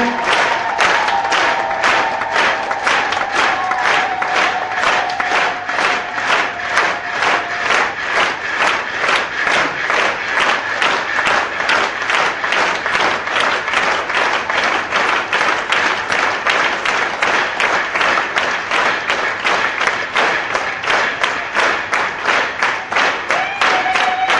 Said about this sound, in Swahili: Ongeza tena makofi kwa Roho Mtakatifu.